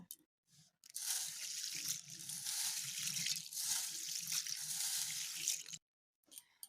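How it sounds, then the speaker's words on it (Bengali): Running water rinses about 150 grams of kidney beans (rajma) in a kitchen, a steady close splashing and trickling for several seconds that stops abruptly, with a brief faint rinse after. "এখন আমি জল দিয়ে এটাকে ভালো করে পরিষ্কার করে নেব।"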